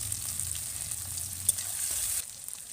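Garlic sizzles steadily in oil in a wok with a soft, even hiss, one brief crackle standing out midway before the sound drops lower.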